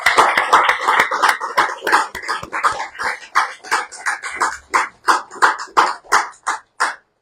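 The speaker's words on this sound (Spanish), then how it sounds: "¿No le das un aplauso al Señor de lo que está haciendo?" A church congregation clapping in unison, loud sharp rhythmic claps at a steady beat that slows and spaces out toward the end, with no talk over it.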